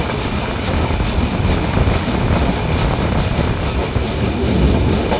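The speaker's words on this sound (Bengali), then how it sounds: "ট্রেনটি 10:28 Saidabad railway station through pass করে যাচ্ছে" The Silkcity Express, on its Rajshahi to Dhaka run, passes through Saidabad railway station as a loud, steady, close rumble with faint rhythmic clatter from the wheels, with no voices.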